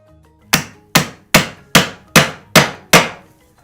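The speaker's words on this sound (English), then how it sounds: "So literally now, small hammer." A small hammer drives a metal caster socket into the base of a sofa during a seat-spring repair: seven sharp, evenly spaced metallic taps, close and loud, each ringing briefly, with no talking.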